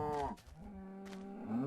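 A cow in the video game Minecraft lets out a clear, drawn-out moo, then a second lowing call, close and fairly quiet.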